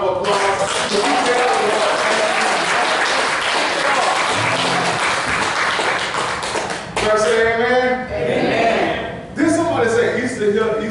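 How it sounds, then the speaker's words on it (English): A church congregation applauds loudly, a dense, continuous wash of clapping for about seven seconds. Then a voice and music-like tones come forward as the applause fades beneath them. "Can we give Jesus a round of applause?"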